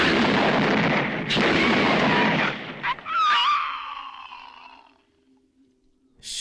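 A heavy, booming gunshot from the 1987 horror film Evil Dead 2 with a long, roaring rumble and a ringing, whining tail that fades, followed by a sudden burst near the end.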